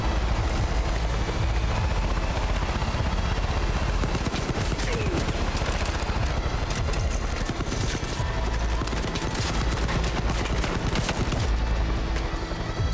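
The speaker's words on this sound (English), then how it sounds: "Realize that's an enemy helicopter." Enemy helicopter in a shooter video game, rotor drone under dense rapid gunfire bursts and scattered shots throughout, a busy, continuous battle din.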